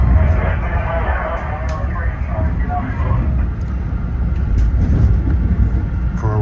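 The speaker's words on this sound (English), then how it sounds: "we're on train 1056 departing Penn Station for Ronkonkoma off of track 18" An eight-car Long Island Rail Road M3 commuter train, lead car 9850, pulls out of Penn Station toward Ronkonkoma through C interlocking on a rough-riding run. The interior is filled with a loud, steady rumble and rattle, with someone narrating over it.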